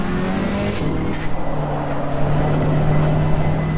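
A KTM X-Bow race car in Assetto Corsa Competizione, its steady engine drone holding level throughout with a sustained low tone and slight surges, no voices over it.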